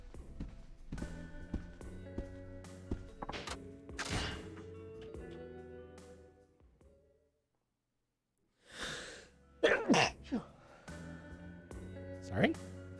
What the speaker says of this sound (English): The sneeze just got me.